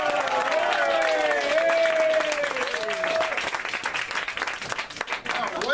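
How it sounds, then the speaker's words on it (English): An audience at a magic show claps and cheers loudly, the applause gradually thinning out, with a voice speaking over it. "you guys gonna give him some applause?"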